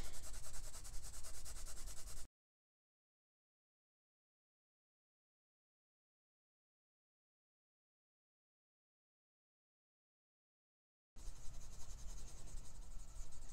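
Prismacolor Premier colored pencil in light aqua rubbing on paper under light to medium pressure, a steady close scratchy shading sound heard alone in two bursts separated by a long silent gap.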